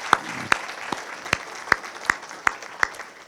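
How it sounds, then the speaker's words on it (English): Applause at the Falling Walls Lab Manitoba finale, heard as a series of sharp, evenly spaced claps about every third of a second over a faint hall background, sounding like a few hands or a small audience keeping time. "So let's clap to that."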